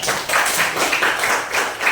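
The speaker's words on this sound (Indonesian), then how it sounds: "Tepuk tangan dulu buat kelompok 3." Classmates in a school lesson applaud a presenting group: dense, steady clapping from many hands throughout, fairly loud and close, with no pauses.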